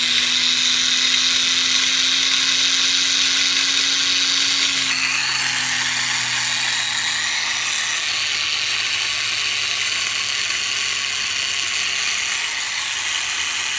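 The small electric motor of an Air Hogs Cessna toy airplane whirs loudly and continuously with a buzzy, ratcheting edge, its pitch stepping down partway through and holding steady to the end, with no talking.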